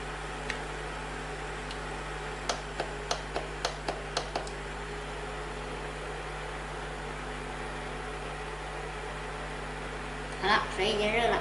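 Induction cooker with a faulty capacitor, heating a little water in an old scavenged pot: a steady close electrical hum with a short run of light ticks and a brief voice near the end.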